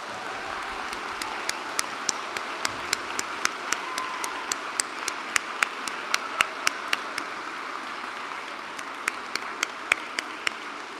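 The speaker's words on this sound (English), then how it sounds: "please stand up and give yourselves a big round of applause" Audience applause at a school head's installation ceremony, a steady wash of many hands clapping with crisp individual claps popping out, sustained evenly throughout and with no voices.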